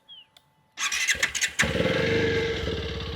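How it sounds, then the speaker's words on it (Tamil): A TVS Apache RTX300 300cc adventure motorcycle cranks with a short starter whir after a moment of near silence, then fires and settles into a steady, close idle. "சவுண்டும் நல்லா இருக்குது ஸ்டார்ட் பண்ணி காமிக்கிறேன்"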